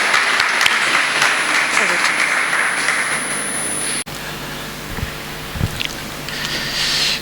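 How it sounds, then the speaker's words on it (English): Audience applause at a World Space Week celebration held with ISRO, a dense burst of clapping that cuts off abruptly midway, leaving a quieter room with a few thumps and a voice. "Huge round of applause for sir, everyone."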